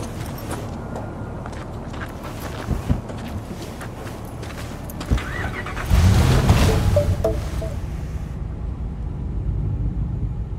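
A car in Cyberpunk 2077 rumbles as it starts and pulls away, a low engine drone rising midway after some footsteps and small clunks, continuing at moderate loudness without speech.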